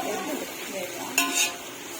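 Tomato being stirred into frying masala for chicken biryani, a soft sizzle in the pan broken by a couple of sharp spoon-on-metal scrapes near the end, close and fairly quiet.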